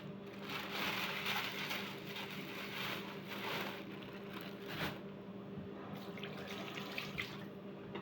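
Raw chicken rinsed under a running kitchen tap, a steady broadband rush of water splashing over meat in a sink with slight shifts in flow, continuous and close, no talking.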